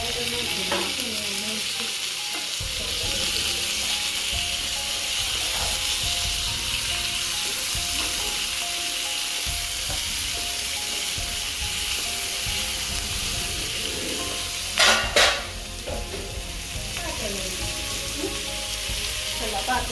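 Tomatoes sautéing in a pan give a steady, close sizzle that runs unbroken throughout, with soft stirring scrapes and a brief sharper clatter near the end.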